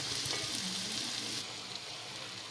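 Tomato and jackfruit gravy cooking in oil over low heat, a soft, continuous bubbling sizzle that drops slightly quieter partway through.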